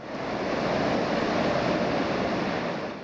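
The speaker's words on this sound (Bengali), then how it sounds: "ঝড়ো বাতাসের সাথে মুষলধারে বৃষ্টি।" Stormy wind and heavy rain from Cyclone Rimal in coastal Patuakhali, a dense continuous roar that swells and fades slightly, loud and close, with no voices.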